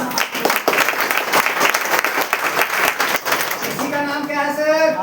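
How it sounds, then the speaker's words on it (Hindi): Audience in Banaras clapping loudly at a market-themed event, a dense burst of applause mixed with crowd voices, followed near the end by someone talking over it. "ताली जोरदार बजा लीजिए।"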